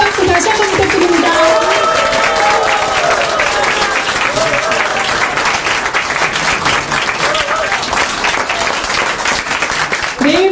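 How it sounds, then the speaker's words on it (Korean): Loud, sustained applause with some cheering from a crowd at a Korean district mayoral election victory speech, continuous clapping filling the whole stretch while voices rise through it. "뜨거운 박수 다시 한번 부탁드립니다."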